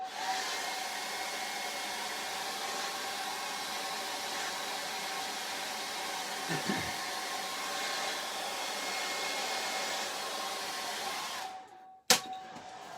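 A hair dryer drying acrylic paint on a charcoal and acrylic portrait, a steady loud whooshing blow running for about twelve seconds before cutting off, followed by a sharp clack.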